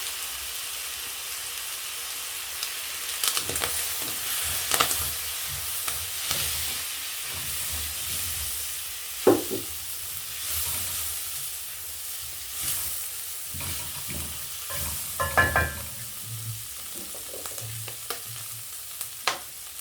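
Matumbo, Kenyan tripe, fries in a pan with dark soy sauce, a steady soft sizzle and hiss broken by occasional stirring scrapes and louder spurts, heard close with no speech.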